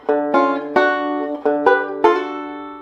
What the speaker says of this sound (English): So first part of the lick at the moment sounds like this.